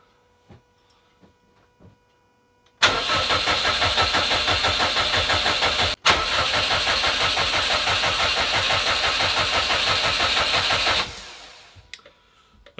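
A Subaru Impreza that has sat unused for three years cranks steadily for about eight seconds, a loud, close, rhythmic whirring churn that never catches and then cuts off into quiet.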